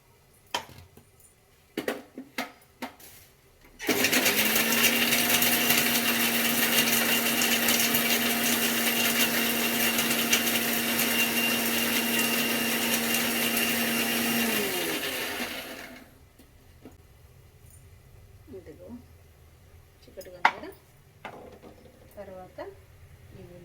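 A kitchen mixer grinder blends chopped garlic, whirring loudly and steadily for about twelve seconds before spinning down. Scattered knocks and clatter come before and after, with a voice in the background.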